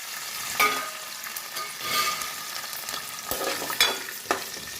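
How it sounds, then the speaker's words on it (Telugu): Kalimi kaya, carissa berries, fry in a little oil in a pan, a steady sizzle broken by several sharp clinks and scrapes of stirring, close and fairly quiet. "మళ్ళీ అదే బాణలిలో కొంచెం ఆయిల్ వేసేసి ఇప్పుడు ఈ కలింకాయలను వేగనివ్వాలి"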